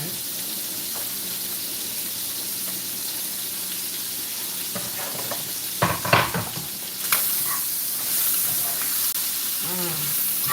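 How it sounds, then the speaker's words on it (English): Ham sizzles in a pan at home as it starts to render, a steady frying hiss with a few brief louder clatters of stirring near the middle. "I'm going to put the ham in first, and once that starts to render down a little bit"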